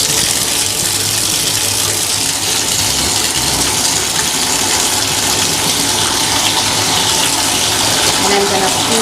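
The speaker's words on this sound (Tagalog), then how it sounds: "Next, I'm gonna turn on the water in the tub." Tap water gushes steadily into a bathtub, a loud continuous broadband splashing rush that holds without a break throughout.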